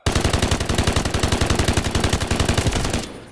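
A PKM general-purpose machine gun firing in the shooter game Delta Force, one long steady burst of rapid evenly spaced shots, loud and close, stopping abruptly near the end, no talking.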